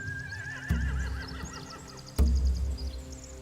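Horses in The Walking Dead video game whinny in several wavering neighs, with two sharp thuds and low rumbling beneath, close and fairly loud.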